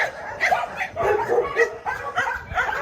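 Several dogs in kennel enclosures barking and yipping in quick, overlapping bursts nearby, with some higher whimpering yelps mixed in.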